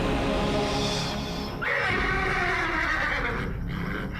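A horse gives a loud, close whinny that rises and then slides down in pitch, set against dense background noise with no talking.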